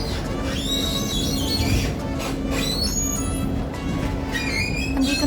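A tram rolls through Rome on a cold day, its wheels squealing in long, high screeches over a steady rumbling hum that persists throughout.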